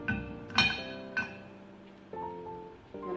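Cut green chilli pieces dropped into a glass of ice water for a chilli flower carving, giving a few bright clinks and taps against the glass, with soft settling sounds in between and no talking.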